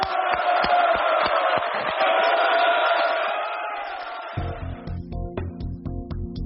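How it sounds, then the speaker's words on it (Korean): A large crowd at a political rally before a presidential election roars and claps loudly for about four seconds, the cheering then fading as music takes over. "박수로 한번 확인합시다."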